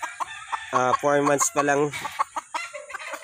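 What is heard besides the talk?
young gamefowl stag crowing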